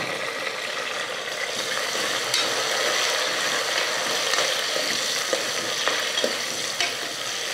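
Onions and a large tomato fry in a pan for a country chicken curry, giving a dense, continuous sizzle with frequent soft stirring scrapes, close and steady throughout.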